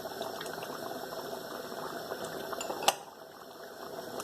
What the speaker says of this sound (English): So that's come to the boil now.